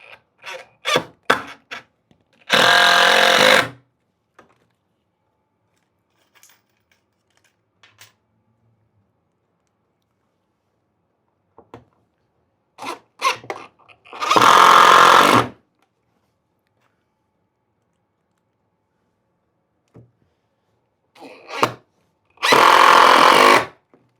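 A power drill drives a couple of screws into pre-drilled holes in wood while building a Hans Wegner–inspired valet chair, with three loud separate bursts of a few seconds each and light handling taps between them.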